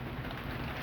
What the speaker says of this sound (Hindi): बहुत ज़ोर से बारिश हो रही है।